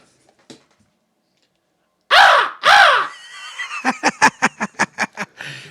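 A man imitates a crow at the microphone, letting out two long, loud, harsh caws, then a rapid run of shorter clipped caw-like bursts that sound almost like laughter.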